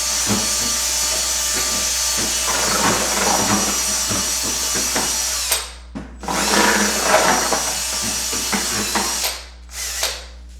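A drill with a paint mixer paddle churns patch compound in a bucket, a steady whirring grind with scraping texture that stops abruptly twice near the end.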